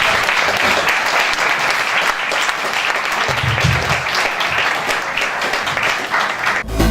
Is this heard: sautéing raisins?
no